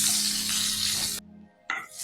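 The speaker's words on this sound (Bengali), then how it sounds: "দিয়ে আমি আলুটা ভালো করে ভেজে নিই।" Potatoes frying in oil with cumin seeds and a bay leaf, a dense close sizzle that cuts off abruptly, followed by a short quiet gap and a brief burst of sizzling or stirring.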